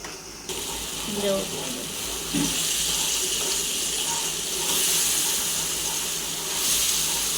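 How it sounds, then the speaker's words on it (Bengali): Water pouring from a tap or vessel over chicken pieces in a cooking pot, a continuous gushing splash that starts abruptly and carries on with a low background murmur of household voices. "এই যে মুরগিতে পানি দেওয়া হচ্ছে"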